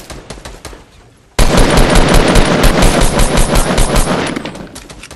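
Automatic gunfire in a Fortnite match: a few scattered shots, then from about 1.4 seconds a loud, continuous burst of rapid fire that rattles on to the end.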